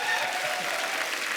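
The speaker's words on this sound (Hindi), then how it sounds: "इनके लिए जोरदार ताली हो जाए।" A studio audience on The Kapil Sharma Show, a TV comedy show, bursts into loud, steady applause.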